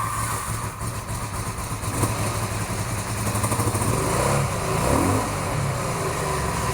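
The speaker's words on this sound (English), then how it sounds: "we're finally running on all 4 cylinders. The bike sounds quite different. Oh, needs to warm up." A four-cylinder cafe racer motorcycle, freshly fixed carburetors, idles on all four cylinders while warming up, a steady close rumble with slight surges in revs and no talking.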